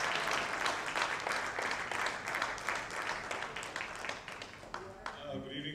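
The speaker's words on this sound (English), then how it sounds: "We want a huge round of applause" Audience applause at a formal launch event for Reso Villa, a dense, steady wash of clapping that stays loud throughout and thins slightly near the end.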